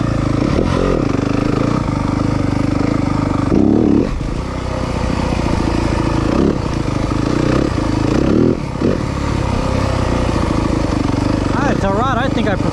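A 2023 Yamaha 250FX four-stroke motorcycle is ridden hard off-road, its engine revving and surging with sharp throttle changes, close and loud, with a rider's voice heard over it.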